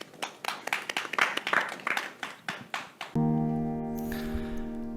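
An audience claps in a rapid, uneven burst for a few seconds at a Korean church radio broadcast, then the applause gives way to sustained musical tones.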